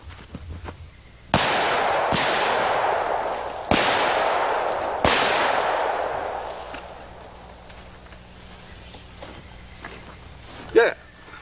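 Four loud gunshots fired by a shooter while running, spaced about a second or two apart, each with a long echoing decay, followed by quieter movement and a brief sharp sound near the end.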